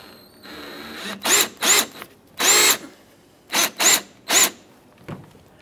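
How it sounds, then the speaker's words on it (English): A power drill whirs in short bursts, about six quick pulls separated by brief pauses, drilling out the centers of plastic rivets on a 2011-2021 Jeep Grand Cherokee headlight bracket, close and loud with no talking. "just go ahead and drill out the center and remove the outer portion as well"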